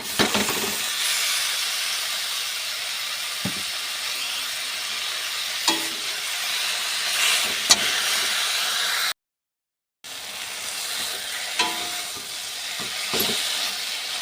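Taro leaf greens (kochu shaak) cooking in a pan with fish and spices give off a steady, soft sizzle and hiss, broken by a few faint stirring clinks and scrapes.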